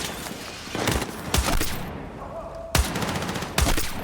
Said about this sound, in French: Ennemi abattu. Joli tir.